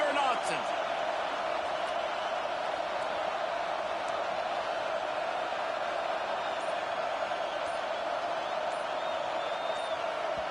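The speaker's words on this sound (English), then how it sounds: "How can a stadium this size make so much noise? You can't hear yourself think on 3rd down here in Austin." A loud, steady stadium crowd roars at a college football game in Austin on third down, a dense continuous wash of noise, with a broadcaster talking over it.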